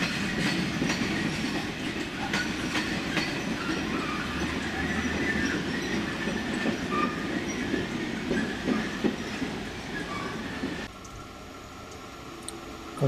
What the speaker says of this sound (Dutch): Een regionale trein